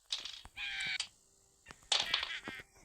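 A crow in the Granny video game caws repeatedly, with several harsh, loud calls in quick succession separated by short pauses.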